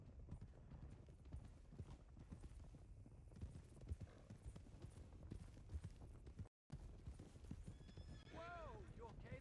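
Horses in the Red Dead Redemption 2 game clip-clop at speed in a rapid, continuous hoof rhythm, with a horse whinnying near the end and brief dropout midway; voices talk over the galloping.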